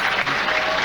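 A crowd at a 1998 Bay City Classic bowling match claps and cheers in a dense, steady burst of applause that fills the brief moment.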